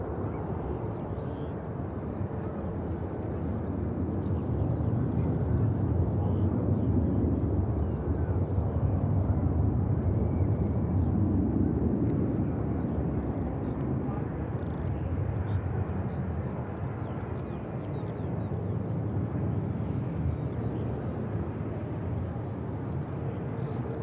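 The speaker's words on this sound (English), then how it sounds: "Steady departure from the Ryanair." A Ryanair jet airliner departing Manchester Airport, a steady broad engine roar holding throughout at moderate distance, swelling slightly in the middle without any talk.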